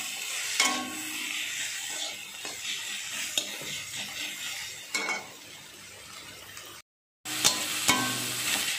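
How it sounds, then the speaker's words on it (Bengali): Onions and tomatoes sprinkled with salt being stirred in a hot pan, a steady close sizzle with repeated scraping strokes of a spatula and a brief silent gap near the end. "ছড়িয়ে দিয়ে ভালো করে আবার নেড়ে নিচ্ছি"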